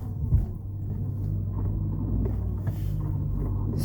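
A car driving on a road near Vodno, with a steady low rumble of engine and tyres heard close from inside and a few faint bumps, with no talking.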